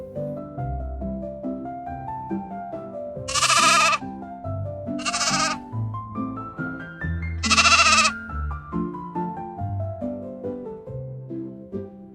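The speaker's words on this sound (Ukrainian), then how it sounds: "А це вівця. Вона має пухнасту шерсть." Three loud sheep bleats ring out at intervals over a bright, bouncy children's melody playing throughout.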